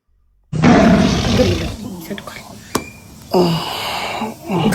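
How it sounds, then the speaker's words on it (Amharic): A loud, close lion roar blasts suddenly, rumbling for a couple of seconds, then surges again briefly with voices faintly underneath. "አንድ አንበሳ ስጡልኝ ለናሁም።"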